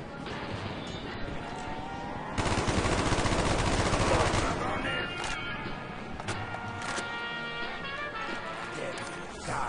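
Gunfire in a zombies video game, with dense rapid shots and loud bursts over a steady game soundscape, heaviest in the middle stretch, continuing beneath the players' voices.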